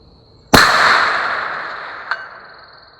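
A rifle is fired at a target 400 yards away: one sharp, loud crack with a long rolling decay, then a fainter brief tick about one and a half seconds later, with no talking.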